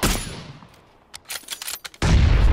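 Bursts of gunfire ring out in a PUBG squad match, with a loud volley at the start, a scatter of sharp shots in the middle and a heavy rapid burst at the end.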